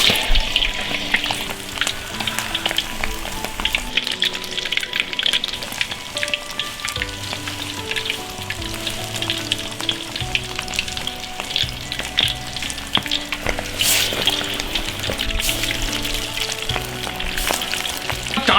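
Large beef meatballs wrapped around shiitake mushrooms deep-fry in plenty of oil, giving a steady, close crackling sizzle with dense popping bubbles throughout and no talking.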